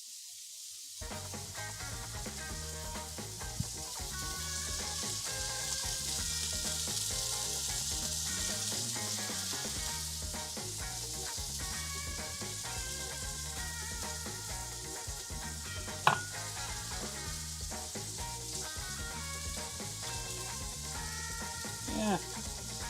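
Shallots fry in a pan with a steady bright sizzle that lasts throughout, close and continuous, with faint clinks and music playing quietly underneath.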